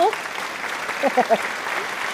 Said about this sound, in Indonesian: Tepuk tangan dulu dong buat 1000.